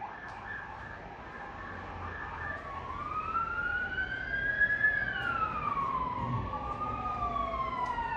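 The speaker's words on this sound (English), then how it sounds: "3 fire trucks that are going past the clinic at the moment" Several fire trucks pass a clinic with wailing sirens whose pitch sweeps up and down in overlapping tones, growing louder toward the middle and staying strong as they go by over a steady traffic rumble.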